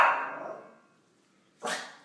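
A dog barks once, then its call tails off into silence before a second sharp, short bark bursts out near the end, fairly close and otherwise alone.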